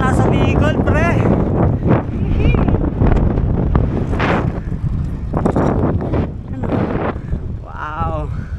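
Strong wind buffets the microphone during a long fixed-gear bike ride, a loud constant rumble that keeps up throughout while a rider talks over it.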